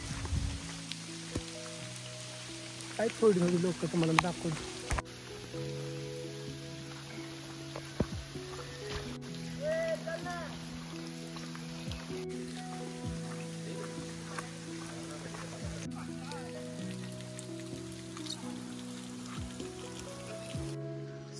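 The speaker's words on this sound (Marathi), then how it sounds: "सो मित्रांनो मस्त असा पाऊस चालू आहे." Steady rain falls around a hill-station path in Matheran, a soft continuous patter beneath someone speaking, with scattered background noise.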